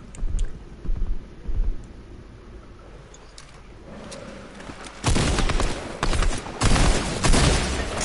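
Video game gunfire comes as short loud bursts of automatic shots, a few spaced volleys early on and then denser sustained firing toward the end, with a quiet gap in between.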